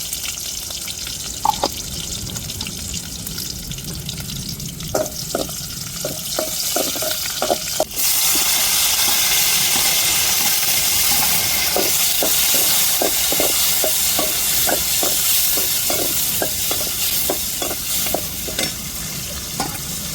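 Mustard seeds and curry leaves fry in hot oil for mutton curry, a constant loud sizzle and hiss that surges halfway through, dotted with rapid clusters of popping seeds and ladle taps, with no talking.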